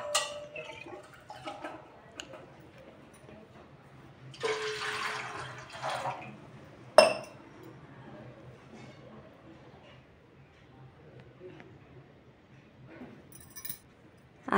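Water poured from a small vessel into a pot for soaking sabudana, a short splashing pour followed by a metallic clink, quiet and close in an otherwise calm kitchen.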